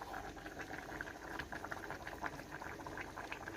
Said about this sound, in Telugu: చూడండి ఇట్లా ఉడుకుతుంది కదా